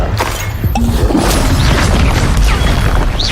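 An Incendio fire spell cast in Hogwarts Legacy bursts out as a loud, crackling blast with sharp impact hits and a rolling roar over busy game combat noise.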